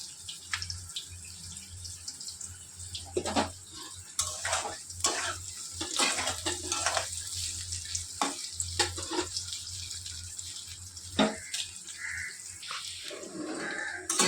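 Lentil fritters (dal bora) frying in a pan make a steady sizzle with bursts of bubbling. Scrapes and stirring knocks of a spatula come at irregular intervals, fairly close and at moderate loudness.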